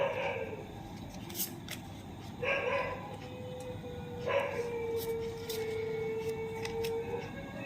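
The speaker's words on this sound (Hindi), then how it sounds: "डॉग्स का शुरू हो गया भौंकना" Dogs bark in a few short bursts spread across the clip, somewhat distant, over a steady background hiss.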